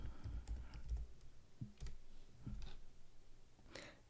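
Typing on a computer keyboard, with soft irregular key clicks in quick bursts, close by and quiet.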